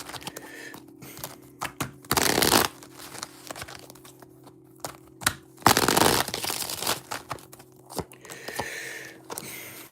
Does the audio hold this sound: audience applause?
no